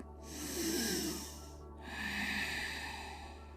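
Deep, full breaths during a yoga session, two slow airy inhalation-exhalation cycles close to the microphone, quiet and unhurried.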